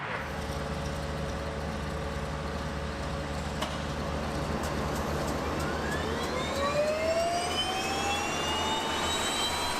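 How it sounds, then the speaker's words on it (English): Two Pratt & Whitney PT6A turboprop engines run together on a Cessna SkyCourier during ground running checks, a steady loud turbine roar with a low drone and a whine that climbs in pitch as power rises. "We will now carry out the running checks to see how the two engines work together"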